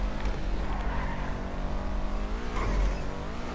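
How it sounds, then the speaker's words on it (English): The Benefactor Schlagen sports car from a video game revs loudly and continuously with a rough, crackling exhaust, and a sharper burst near the end fits a backfire, with no talking. "it's backfiring like mad"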